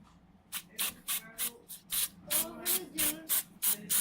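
Carburetor cleaner sprayed onto a car's auto control valve on an Integra, heard as about a dozen short, sharp aerosol hisses in a quick, uneven rhythm, close up.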